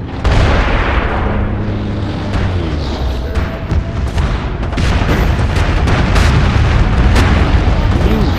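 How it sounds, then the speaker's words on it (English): Gates blown apart in the shooter MAG: loud, continuous booming explosions and scattered gunfire, heavy and close, with a voice talking over the din. "Blowing all the gates at A"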